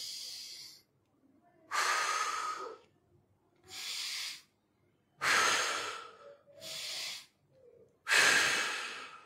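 Slow, deep breaths drawn in and out during a Quran recitation breathing exercise, loud and close, each lasting about a second with short silent gaps between them.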